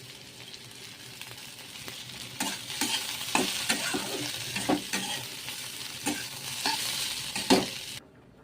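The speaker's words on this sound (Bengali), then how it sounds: "আমার ফুলকপি ভাজা হয়ে গেছে" Cauliflower sizzles in a hot pan with repeated scraping and stirring strokes, close and fairly loud, no talking.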